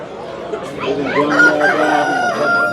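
Chickens cluck and a rooster crows nearby at a chicken market, several birds calling over one another in a busy, close chorus.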